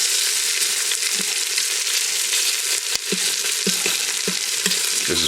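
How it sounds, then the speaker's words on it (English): Oxtail pieces browning in a hot pan give a loud, constant close-up sizzle and frying crackle, with occasional clanks and scrapes as the meat is moved around. "Okay, we're going to drop the oxtail in."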